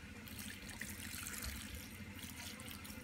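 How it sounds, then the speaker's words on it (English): Water pours into a jug holding cement for tiki torch stands, a faint, steady trickling splash lasting a few seconds with no talking. "And then fill it up with more water."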